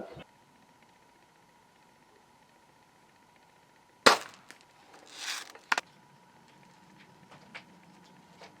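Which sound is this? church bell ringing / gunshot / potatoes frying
gunshot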